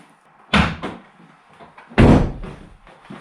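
A T5 van door slams shut twice, each a loud, close bang followed by a brief rattle, about a second and a half apart, with no talking.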